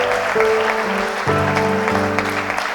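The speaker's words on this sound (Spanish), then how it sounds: "Y los que van a recibir aplauden." A church congregation applauds in a steady wash of clapping while sustained organ or keyboard chords ring out beneath it, shifting pitch a couple of times.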